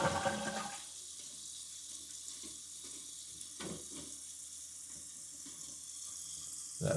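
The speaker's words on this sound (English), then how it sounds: "Go ahead and flush it one more time." A toilet flushes with a loud rushing burst that quickly drops into a steady hiss of water running and refilling the tank, then surges again at the end.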